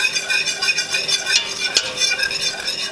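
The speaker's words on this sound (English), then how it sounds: "we're just gonna whisk this" Butter being whisked in a metal pan for Swedish meatballs, rapid rhythmic scraping and clinking of the whisk against the pan over a faint sizzle, loud and close.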